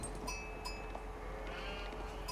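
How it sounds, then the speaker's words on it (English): Sheep bleat faintly in a strategy video game, an Ayyubids versus Byzantines match, with a few short calls rising over a steady low game backdrop. "right now I'm just going on collecting sheep"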